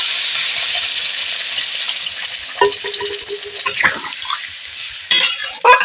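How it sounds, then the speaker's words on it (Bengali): Water is poured into a pan of spiced potato curry that is already frying. There is a steady hiss of sizzling, then bursts of crackling and bubbling as the water hits the hot pan. "এবার এতে দিয়ে দেবো পরিমাণ মতো জল"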